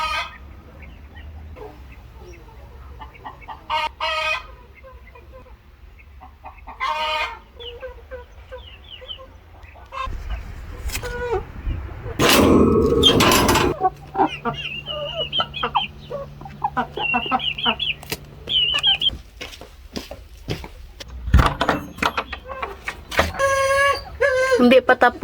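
Free-range backyard chickens clucking and a rooster crowing near an ampalaya garden, with several bursts of calls spread across the scene, some close and loud, alongside outdoor rustling and a person speaking at times.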